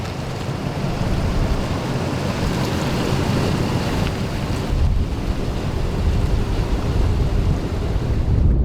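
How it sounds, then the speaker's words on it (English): Strong wind buffets the microphone at a lake in Maine in a loud, steady roar, with rushing surf and lapping water underneath throughout. "as you can tell, it is windy"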